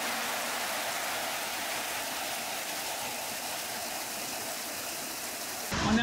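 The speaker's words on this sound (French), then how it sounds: "Ah ouais, franchement là c'est une grosse pluie" Heavy tropical rain in Guinea pours down as a dense, constant hiss, steady and enveloping for several seconds before a louder burst of noise close by at the very end; no one speaks.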